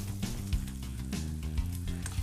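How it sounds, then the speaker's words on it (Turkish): Slices of sucuk sausage sizzle in olive oil in a pan, a steady, fairly close frying hiss with soft bubbling pops throughout and no voices. "Sucuklarımı atıyorum."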